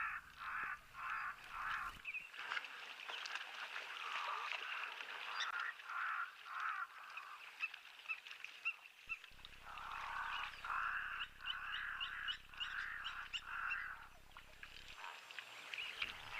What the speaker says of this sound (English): their crows are always a sound to behold